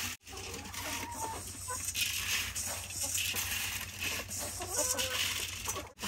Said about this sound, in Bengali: দেখেন এটা আমাদের দেশি ফার্মি মুরগি